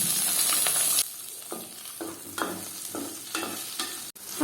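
Tomato sautéing in a pan with shallots and curry leaves, a steady close sizzle broken by repeated scraping stirs of a spoon through the mix, with no talking.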